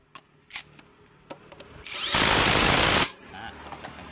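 A power tool whirs in one loud, steady burst of about a second, tightening a size 17 nut while fitting a new drive belt on a Honda Beat scooter, preceded by faint clicks and handling noises.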